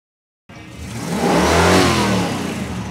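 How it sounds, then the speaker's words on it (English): A car engine revs up sharply after a brief silence, climbing to a loud, close roar and then easing slightly while still running. "Rev the engine for you."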